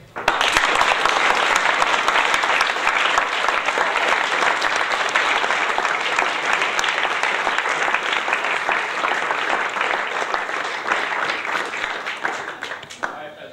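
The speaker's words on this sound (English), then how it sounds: "By a show of applause, so that, say, the accounting class next door would hear you." Loud, dense audience applause fills a room during a classroom-style talk, sustained for over thirteen seconds at near-constant strength with a faint crowd murmur underneath.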